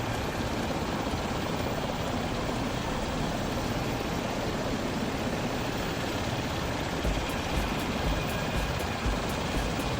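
An MD500 helicopter flying in the FlightGear flight simulator gives a steady, dense rotor and engine roar, constant and loud from start to end, alone with no voices over it.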